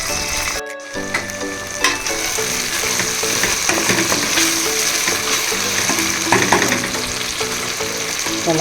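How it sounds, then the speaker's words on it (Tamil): Tomatoes sautéing in a pan for potato biryani give a steady, close sizzle with repeated scraping stir strokes, after a brief cut near the start; no one speaks. "தக்காளி நல்லா வதங்கட்டும் ஃப்ரெண்ட்ஸ்."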